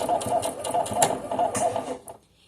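A domestic sewing machine stitches knit fabric in a fast, steady mechanical whir with rhythmic needle ticks. It runs for about two seconds, then stops abruptly.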